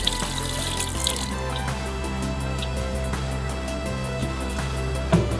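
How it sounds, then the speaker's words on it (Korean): Water pouring steadily from a container onto a surface being cleaned, a continuous close splashing rush with a faint drip near the end. "제가 물을 부어 보도록 하겠습니다"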